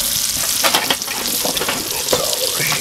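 Brussels sprouts crackle and sizzle in melted butter on a charcoal grill, a close, dense frying hiss with small pops and clatters throughout.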